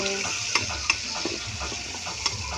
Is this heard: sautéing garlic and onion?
yes